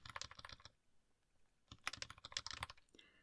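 Quick clattering keystrokes on a computer keyboard come in two short bursts with a quiet pause between them, close and fairly soft, with no voices.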